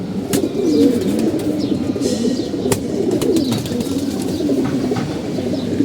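Pigeons coo continuously and close by in a loft, with several birds overlapping in a low, rolling murmur. Occasional sharp clicks and rustles from the birds mark the steady chorus.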